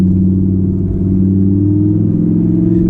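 A 2018 Audi R8 RWS V10 in sport mode hums with a steady, deep drone under gentle throttle, heard from inside the cabin. There is no sharp rise in revs and no talking.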